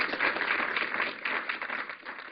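Audience applause fills a hall at a political policy event as a speaker is welcomed to the stage; steady, dense clapping runs throughout at moderate level without a clear break.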